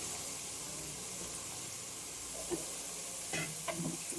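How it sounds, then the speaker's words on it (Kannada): Quartered mushrooms frying in a pan for mushroom biryani give off a faint, even sizzle and hiss throughout, with a few soft stirring taps near the end. "ಮಶ್ರೂಮ್ ಹಾಕ್ತಾಯಿದ್ದೀನಿ. ನಾಲ್ಕು ಭಾಗ ಕಟ್ ಮಾಡ್ಕೊಂಡಿದ್ದೀನಿ."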